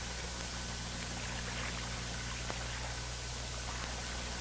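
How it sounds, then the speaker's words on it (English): Clear water pours and streams steadily to rinse mud from the barrel of an M16A1 rifle, a soft continuous wash heard faintly and alone without any talk. "If clear water is available, use it to wash these areas."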